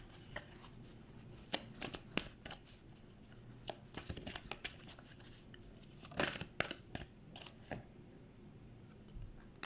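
Tarot cards are shuffled and drawn in a quiet room, giving soft, irregular papery riffles and taps in short bursts, close and faint.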